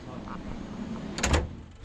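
Sliding door on a passenger train moving open, a brief rolling mechanical rumble with a sharp bright clunk as it reaches its stop, close by, amid quiet carriage background noise.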